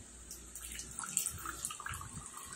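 Water is poured gently from a small teapot into a cup while brewing Long Jing green tea gongfu-style, a soft, close, trickling stream lasting a couple of seconds with no talking.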